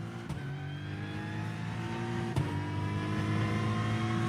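A GT3 race car engine in iRacing drones steadily, its pitch holding then gradually building, with a couple of sharp clicks along the way.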